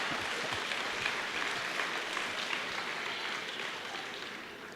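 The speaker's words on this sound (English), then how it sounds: "Give this man a round of applause" A crowd claps continuously, a dense wash of applause that fades slightly toward the end.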